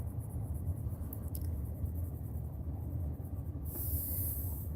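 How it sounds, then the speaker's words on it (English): A train passes near railroad tracks, heard as a distant low rumble with a steady hiss throughout, and a brief brighter high-pitched burst near the end, faint and without talk. "I don't know if you can hear the train going by or not."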